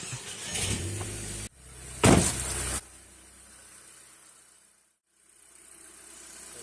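An Audi TT Mk2 engine with new NGK spark plugs idles steadily, with a sharp burst of revving noise partway through before settling back into a low, quiet hum.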